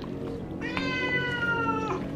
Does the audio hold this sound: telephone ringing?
no